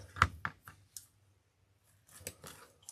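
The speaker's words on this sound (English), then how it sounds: "You're going to cut the excess off" Scissors snip through excess pipe cleaner in a few crisp, close cuts, a quick pair of snips followed by a lone click and then two more cuts after a short silence.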